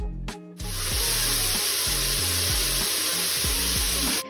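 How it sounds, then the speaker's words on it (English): Celery, onions and carrots sauté in olive oil in the bottom of an Instant Pot, giving a loud, steady sizzle that holds throughout, with repeated low knocks and scrapes over it. "We're going to need that to saute for about 5 minutes."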